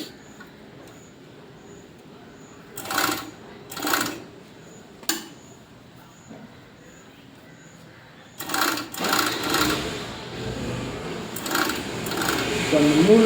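A Bravo overlock sewing machine runs in several short bursts, each a fast rattling whir, then in a longer steady stretch, with quiet pauses between bursts and a voice talking in Tamil nearby.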